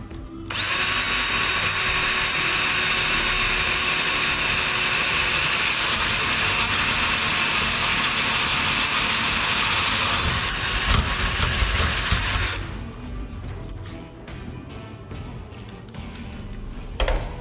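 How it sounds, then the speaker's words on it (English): A loud, steady high-pitched power drill whines continuously for about twelve seconds while drilling rivet holes to install a snowbike heat exchanger, then stops, leaving lighter clattering and handling noises. "get started and drill our first hole, put our first rivet in"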